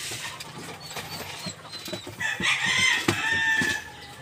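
Several hens cluck and squawk close by while eating feed, an overlapping, busy chorus with scattered pecking taps.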